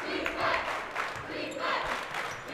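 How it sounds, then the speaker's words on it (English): Home crowd at a Beverly high school boys basketball playoff game swelling into broad cheering and yelling in a gym, a steady noisy roar with a few louder surges throughout. "Beverly crowd coming to life"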